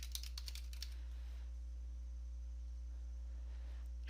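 Quick bursts of clicky keystrokes on a computer keyboard, tapped in the first second or so, then a steady electrical hum and faint background noise with no talking.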